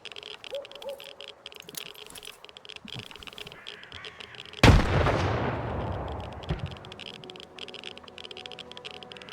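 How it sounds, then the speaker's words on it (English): A thrown grenade goes off in the video game Stalker 2, one sudden loud booming blast halfway through with a rumbling tail that fades over about two seconds, after quieter game ambience and clicks. "Let me see if I can throw a grenade over there."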